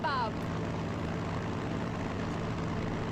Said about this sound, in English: bring in one of our bombers and shut that thing down